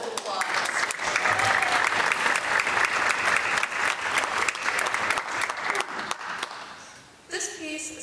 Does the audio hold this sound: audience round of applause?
yes